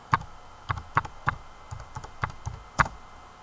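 Keystrokes on a computer keyboard while commands are entered for a John the Ripper password-cracking session, about nine distinct clacks in an uneven, hesitant rhythm, close and clear over a quiet room.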